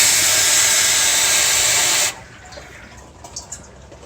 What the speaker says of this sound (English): we need to get a water hose and start injecting some water